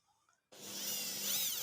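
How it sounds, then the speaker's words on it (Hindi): Electric drill boring a hole into an amplifier case, starting abruptly after near-silence and running with a steady high whine and grinding bite, close and fairly quiet. "आपका ड्रिल मशीन की आवाज़ भी सुनाई दे रही होगी"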